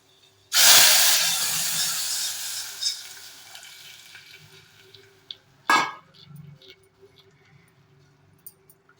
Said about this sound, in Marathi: आता आपण हे मटणचं पाणी टाकणार आहे बघ